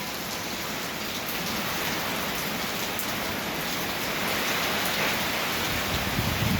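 Steady heavy rain from Typhoon Uwan pours down during the storm, a dense continuous hiss of drops on surfaces that swells slightly toward the end, with no voices.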